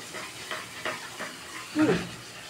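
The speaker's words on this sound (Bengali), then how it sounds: "টক দই দিয়ে ওগুলো ভালো করে নাড়লে মশলাটা ভেজে নেবো" Spices stirred with yogurt in a frying pan for a paneer curry, soft repeated scraping strokes over a quiet sizzle, close with one louder scrape near the end.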